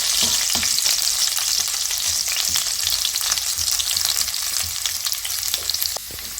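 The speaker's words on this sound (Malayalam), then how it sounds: "ഇഞ്ചി ഒന്ന് മൂത്ത് വരുമ്പോൾ നമുക്ക് വെളുത്തുള്ളിയും കൂടെ പകുതി മൂത്ത് കഴിയുമ്പോൾ വെളുത്തുള്ളിയും ഇട്ട് കൊടുക്കാം." Ginger and garlic frying in hot oil as the base for a Kottayam-style fish head curry, a loud, continuous close-up sizzle with scattered crackles that eases slightly near the end.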